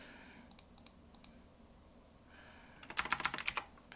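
Someone types on a computer keyboard at a desk, starting with a few scattered key clicks and ending in a faster burst of keystrokes. The clicks are close and quiet, with no talking.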